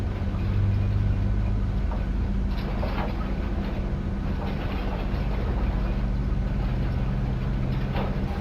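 Steady, loud aircraft engine roar as engine number 2 is started, with a low droning hum and broadband rush, continuous throughout without pauses or voices.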